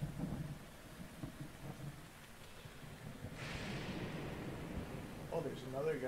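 A video game thunderstorm on Zelda's Eventide Island in master mode rumbles with low thunder over a steady wash of rain, as a crack of lightning bursts in midway and people talk throughout.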